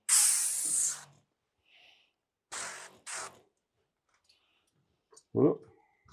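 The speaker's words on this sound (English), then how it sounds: "I'm going to spray out the bottom of this window." A spray bottle mists the bottom of a window during sunburst window tinting: a long loud hissing burst, then two shorter sprays close together, with a brief knock near the end.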